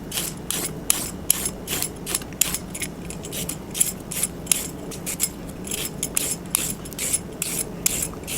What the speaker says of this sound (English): using a peeler, I'm going to peel the skin off